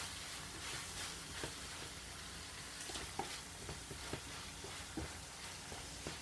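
Squash and chicken breast sizzling in a frying pan, a steady crackling hiss with scattered pops and occasional stirring scrapes, close and fairly quiet, no voices.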